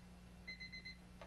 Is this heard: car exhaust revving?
no